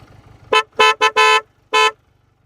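A Benelli 302R motorcycle horn honks five times nearby in short irregular bursts, the fourth a longer blast, over a low idling engine.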